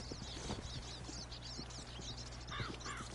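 Horse hooves clip-clop at a steady walk in the Red Dead Redemption 2 game world, soft and close over a constant low hum, with birds chirping in the background.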